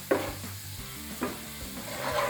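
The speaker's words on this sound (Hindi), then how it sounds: "अब मैं इस पर एक छोटी प्याज का तड़का लगाऊंगी" A small onion tempering for beef nihari sizzles in hot oil in a pan as it is stirred, a steady close frying hiss broken by a few scraping stirs, with no voices.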